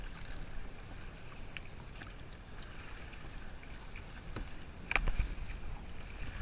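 A kayak paddles across water off the Channel Islands, with a faint steady wash of water and wind broken by a brief, sharper splash of a paddle stroke near the end, and no talking.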